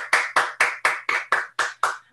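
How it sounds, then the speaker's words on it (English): Eight crisp hand claps in a steady, evenly spaced rhythm, close and clear with no talk over them, given as a virtual round of applause during an online workshop. "I'm going to invite everybody to give a virtual clap. So let's just have some claps on here"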